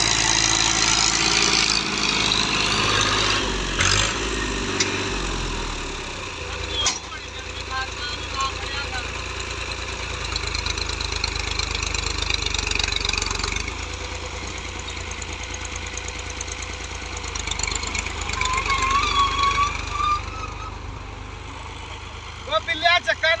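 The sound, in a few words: small tractor engine idling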